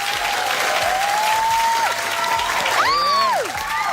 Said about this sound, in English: Can we give a round of applause for Sarah?